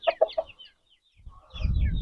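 An Aseel rooster, a white bird of about 2500 grams, gives three short clucks close by, then falls quiet before a rising rumble of handling or movement noise fills the rest.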